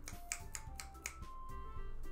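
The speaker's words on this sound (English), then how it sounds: "don't they snap instead of applauding?" Several sharp finger snaps in place of applause, as at a poetry reading, land in an uneven rhythm over a steady background of game music.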